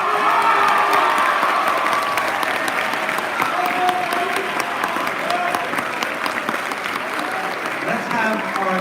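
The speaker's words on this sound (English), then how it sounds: "Let's have all the top 3 stand up right now and get a big round of applause." An audience at the West Linn Poetry Out Loud 2023 competition applauds the top three finalists with loud, continuous clapping, mixed with a few cheers and voices throughout.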